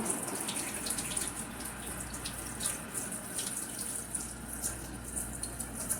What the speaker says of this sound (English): let me try to wash my hand off for a second